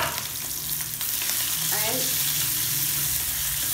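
Chopped onions fry in hot oil with mustard and cumin seeds, giving a loud, steady, dense sizzle, with a short spoken word near the middle.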